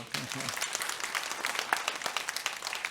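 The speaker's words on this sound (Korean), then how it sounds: "박수 한번 해주세요" A church congregation claps during a worship service, a steady patter of applause at moderate level with a voice speaking over it.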